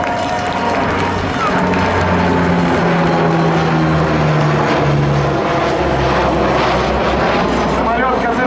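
An Antonov An-12 four-engine turboprop flies past at a Russian air show in Zhukovsky, its loud, continuous propeller drone rising and shifting in pitch, with an announcer talking over it throughout.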